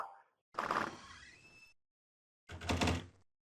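A house door being opened, with a sliding, rattling scrape followed after a pause by a heavier clattering thud, both close and loud with silence between.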